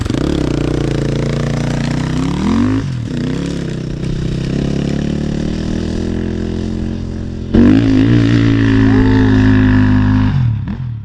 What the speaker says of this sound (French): Observez un peu, écoutez le régime moteur